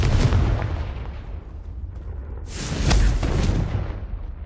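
Confringo blasting spell detonating in Hogwarts Legacy, a loud booming burst at the start that fades, then a second roaring blast swelling midway and rumbling on to the end, with no talk.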